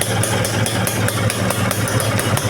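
A rebuilt Vespa VBB scooter engine idles steadily and loudly close by, its rapid, even putter carrying a light mechanical rattle, with no talking over it.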